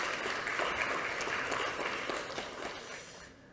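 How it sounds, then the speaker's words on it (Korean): An audience at a lecture on North Korean nuclear advancement applauds to welcome the speaker, a former head of the Korea Institute for National Unification. The hall claps steadily, then the applause gradually fades over a few seconds. "큰 박수로 모셔주시기 바랍니다."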